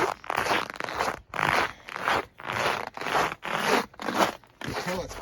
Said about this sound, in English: You can tell it's cold from the noise the boots make